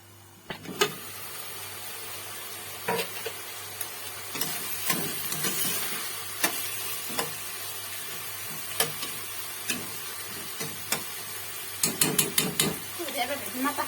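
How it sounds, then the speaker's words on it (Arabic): Onions fry in a pan for Moroccan rfissa with a soft continuous sizzle, broken by repeated clicks and scrapes of stirring utensils, while a person talks over the cooking. "غادي نخليوها تهبط شويه البصله ديالنا"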